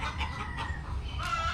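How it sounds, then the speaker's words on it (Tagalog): Domestic chickens clucking at close range in a backyard, with short overlapping calls rising and falling over a steady outdoor hum, one brighter squawk near the end. "Ayun yung manok ko"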